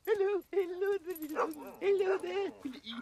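A dog in a comedy film scene gives high, whining whimpers and short yips, mixed in with a voice talking over it, close and moderately loud.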